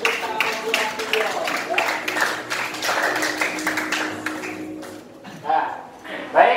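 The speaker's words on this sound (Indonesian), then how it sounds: "kita kasih tepuk tangan dulu untuk tampilan video" Classroom audience clapping after a video screening about AIDS, a steady wash of many hands across the whole stretch, with a voice breaking through near the end.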